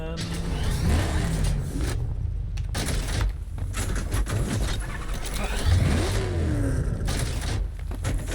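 A car drives and revs in Batman: Arkham Knight, its engine droning loudly with rising and falling surges and a few knocks, under a voice talking through much of it.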